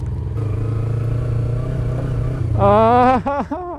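A Suzuki and a Kawasaki Ninja motorcycle ride off-road in heat, first a steady, close engine drone, then a sharp rev that rises and dips several times near the end. A voice shouts briefly.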